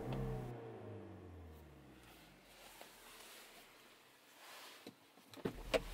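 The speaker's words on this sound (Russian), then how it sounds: "Немного погазуем." Hyundai Tucson 4WD with a six-speed manual gearbox revving in place, engine rising and falling in a couple of broad swells, fairly close and steady, with a few faint clicks near the end and no talk.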